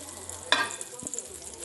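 Butter melting in a hot pan gives a soft, steady sizzle, faint and close, with a brief clatter of the pan partway through.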